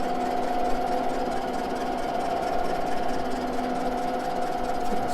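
A jig borer cuts 1953 Harley-Davidson K model engine cases at 270 RPM, making a steady machine hum with a faint rhythmic chatter, even and unbroken throughout.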